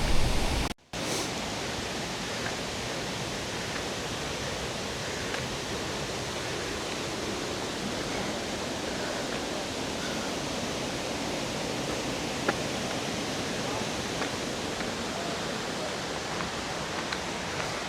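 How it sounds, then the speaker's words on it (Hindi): A mountain waterfall in the Allgäu Alps gives a steady, dense rush of falling water that stays even and loud throughout, after a brief bump and dropout at the start. "यहाँ पे वाटरफॉल है बहुत प्यारी"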